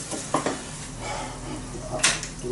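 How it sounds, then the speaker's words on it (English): Risotto rice stirred into hot oil in a pan with a utensil, soft scraping and faint sizzle, with a couple of sharper clinks against the pan. "I'm just going to stir this in until it absorbs the oil."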